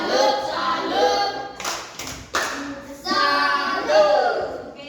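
A primary-school class in an Indonesian science lesson performs a clapping chant, with children's voices chanting in rhythm while a few sharp hand claps and thuds punctuate the middle.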